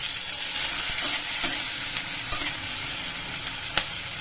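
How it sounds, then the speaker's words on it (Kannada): Carrot, beans and potato pieces frying in hot oil with onion, cumin and mustard seeds, a loud continuous sizzle with occasional stirring scrapes and clicks close up. "ಎಲ್ಲ ತರಕಾರಿಗಳನ್ನ ಚೆನ್ನಾಗಿ ಫ್ರೈ ಮಾಡ್ಕೊಂಬಿಡಿ."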